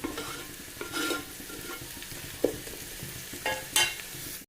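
Tomatoes with salt cooking in a pan, soft sizzling under intermittent scraping stirs, quiet and close.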